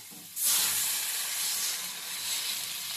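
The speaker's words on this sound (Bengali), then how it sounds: "তো এবার আমরা জল দিয়ে দেব।" Water poured into a hot pan while making pasta soup gives a sudden loud hiss that settles into a continuous sizzle and steam rush, close and alone.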